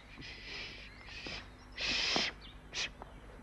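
Birds call in a garden at the start of an autumn concert, several distinct bright calls in short bursts separated by pauses, fairly close over a quiet background.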